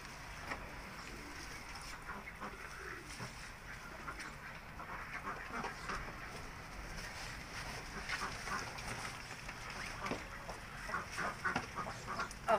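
Domestic ducks and other fowl let out of an indoor room to feed, a soft, continuous mix of quacking, clucking and rustling at moderate distance, getting a little busier toward the end.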